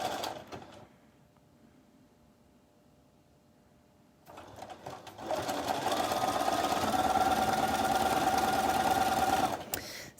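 A sewing machine stitching fabric, starting briefly, pausing into near quiet, then running again in a steady loud whirring hum with a rising motor tone before stopping, close by.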